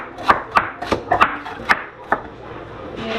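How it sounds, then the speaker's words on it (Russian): A knife chopping a celery stalk on a cutting board for a salad, with a quick run of crisp, close cuts that slows and then stops. "На салатик сейчас нарезаю стебель сельдерея."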